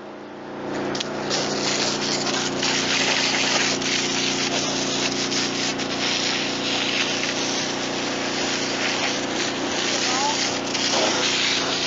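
Steady, loud hiss and rush of a water pump hose spraying a tractor clean, running below full pressure, continuing unbroken throughout.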